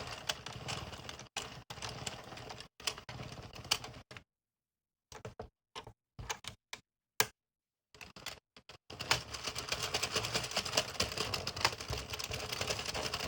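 Addi or Sentro 22-pin plastic knitting machine cranked through a few rows of waste yarn, giving a steady rapid clicking rattle close up, broken by a stretch of pauses and short bursts before running continuously again.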